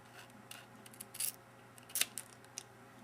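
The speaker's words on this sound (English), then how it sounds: "on either side, I'm going to cut part of a triangle" Scissors cut a triangular notch into a cardboard toilet paper tube, giving a handful of short, crisp snips at close range with brief quiet gaps between them, and no talking.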